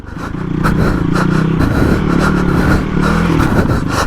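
A Hero XPulse 230 big bore motorcycle rides off-road over rough terrain toward a rock garden, its engine droning loud and steady close by, pitch shifting slightly as it holds second gear, with faint rattles and scrapes underneath.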